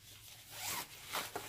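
The front zipper of a party bag is pulled open close up, giving a continuous raspy zip with a couple of quick final tugs.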